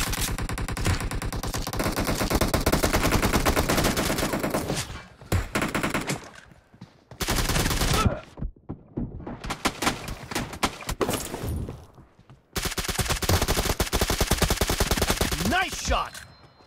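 PUBG Mobile team deathmatch gunfire: loud, rapid automatic bursts in long sustained stretches broken by short silent gaps, with scattered single shots in between.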